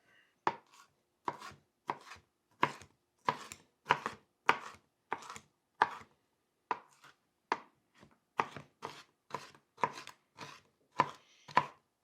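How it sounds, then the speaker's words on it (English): Pickled jalapenos chopped with a knife on a cutting board, a steady run of about twenty crisp, close knocks at an even rhythm with brief gaps, with no voices. "So let's scoop some of those out, chop them up, and add them in as well"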